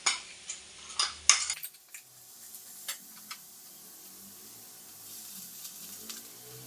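Grated coconut, green chilli and onion go into a hot frying pan for a mashithand thoran, with a spoon clattering against the pan at first, then settling into a faint, steady sizzle with occasional light taps.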